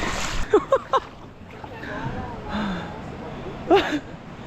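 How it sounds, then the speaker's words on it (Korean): Strong waves suddenly slapping against a small boat at sea, washes of splashing water with people gasping and talking over it. "파도가 갑자기 순간순간 너무 세게 치니까"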